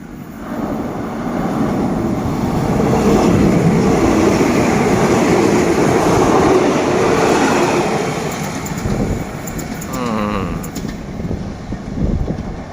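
Ordinary passenger train 262 rushes past a parked stone-ballast train in Thailand, heading for Ratchaburi. It brings a loud, sustained rolling rumble that builds and then fades, with faint speech mixed in.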